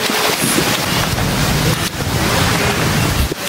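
Sea waves at Bulabog Beach, Boracay, a loud, continuous wash of surf mixed with gusting wind across the microphone, with no talk.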